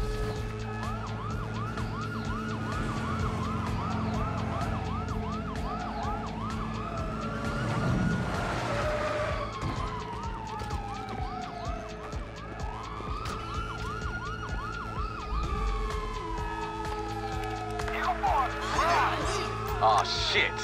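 Police sirens wail during a heist at the Union Depository in the video game GTA V, with repeated rising and falling sweeps and yelps over a rumbling background while characters talk.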